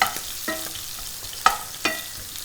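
Food starting to melt in a pan for a steak Diane sauce, stirred with a heat-proof spoon: a soft sizzle under a few separate scraping strokes and light taps, close and quiet, no speech.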